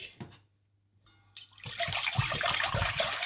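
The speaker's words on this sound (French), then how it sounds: "on commence par mettre le lait à chauffer" Milk poured into a pan to heat for a chocolate liégeois, a steady close liquid trickle building after a brief quiet start and running to the end.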